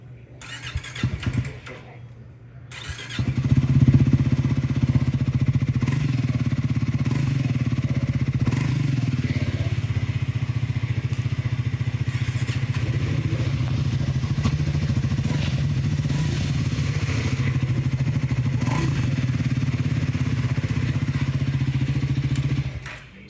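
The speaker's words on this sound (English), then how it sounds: "let me just start the motorcycle one by one to make you hear how the exhaust sounds like" A Triumph Scrambler 400X motorcycle with a twin exhaust setup cranks and fires up after a brief quiet moment, then settles into a steady, loud, close-up idle rumble that runs unbroken for about twenty seconds.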